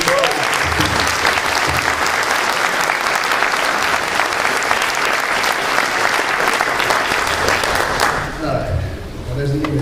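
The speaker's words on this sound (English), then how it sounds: "I really want to give Carl a big round of applause." Loud applause for Carl from a packed San Diego Comic-Con audience at a Mattel toy panel, a thick, sustained clapping that fades in the final seconds as a voice resumes.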